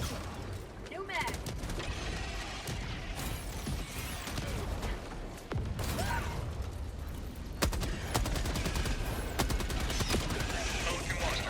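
Continuous rapid gunfire and explosions from the video game Helldivers fill a loud, dense battle scene, with game voices speaking over the shooting.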